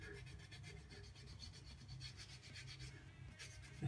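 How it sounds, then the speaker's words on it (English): A coarse file rubs over hand calluses on the fingers in steady, continuous rasping strokes, close and fairly quiet, with no voices. "I start with the coarse side first and just start rubbing away, smoothing out all those rough parts."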